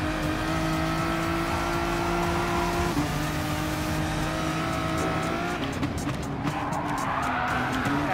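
Group 3 race cars in Gran Turismo Sport roaring around a track, steady loud engine drone with shifting pitch, tire squeal and a gear change near the end, a car pulling away.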